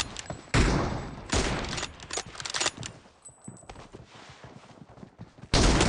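Video game gunfire in a team shooter match, loud bursts of rapid shots and fusillades separated by quieter stretches of lighter clicks and impacts, with bursts opening and closing the stretch.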